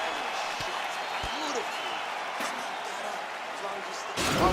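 Virtual arena crowd in a PS5 UFC heavyweight fight keeps up a steady roar and cheer throughout, swelling louder near the end, with an announcer's voice faintly mixed in.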